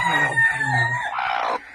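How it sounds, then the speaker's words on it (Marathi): A free-range village hen sits over a brood of about twenty newly hatched chicks, giving close, repeated clucking calls mixed with thin, high peeping, with no talking. "बघा इथं एक कोंबडी ठेवलेली आहे"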